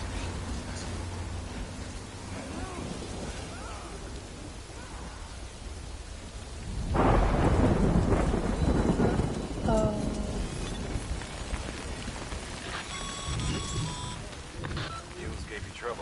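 Rain and a rumble of thunder in the video game Death Stranding: steady rainfall throughout, swelling into a louder thunder roll midway, with game voices and effects mixed in.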